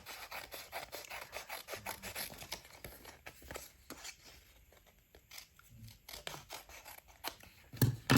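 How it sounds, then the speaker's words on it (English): Scissors snip and trim card stock, rounding off the corners, in a quick run of close, crisp cuts with short pauses between them and a louder snip at the end. "and now you can just cut all the extra off. Round those corners."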